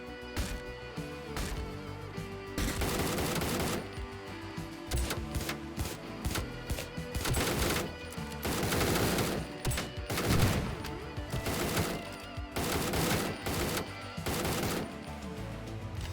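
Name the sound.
gunfire in the video game Door Kickers: Action Squad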